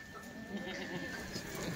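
Kathiyawadi goats from a newly arrived truckload bleat at a farm, calls overlapping against steady background noise, with someone talking throughout.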